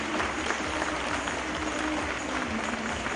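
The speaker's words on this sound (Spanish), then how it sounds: "Un aplauso para ella." An audience applauds a newly crowned Miss Argentina at a beauty pageant, steady dense clapping at a moderate distance throughout.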